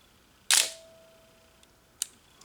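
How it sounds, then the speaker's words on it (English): Olympus OM-1 film camera shutter firing once with a sharp mechanical snap and a short ringing tail, followed by a smaller click about a second and a half later, close and clear in a quiet room. "here's your shutter."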